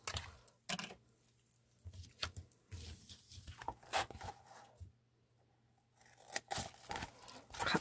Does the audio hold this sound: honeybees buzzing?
no